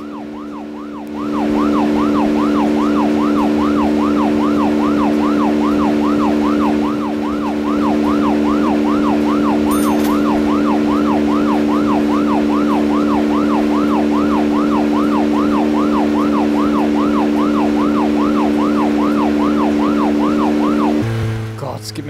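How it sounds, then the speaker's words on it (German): A wailing vehicle siren in the video game Deadly Premonition sweeps steadily up and down for about twenty seconds, loud and continuous over a low engine hum, cutting off abruptly at the end. "Auch wenn die Sirene furchtbar nervig ist,"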